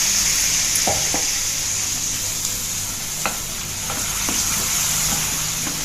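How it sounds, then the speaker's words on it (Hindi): Ground tomato paste sizzling in a frying pan with ginger and spices for baingan bharta, a steady close hiss with a few soft scrapes from stirring. "ये हमने टमाटर पीस के रखे थे, इनको हमें इसमें डाल देना है"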